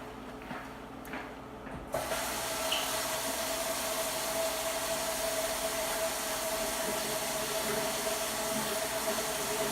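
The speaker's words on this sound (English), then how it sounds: "do you mind if I'm gonna wash my hands really quick?" A bathroom sink tap gushes steadily, running water under hand-washing, with a click just before the flow starts and a continuous bright hiss that lasts to the end.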